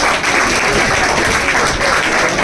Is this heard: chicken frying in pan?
no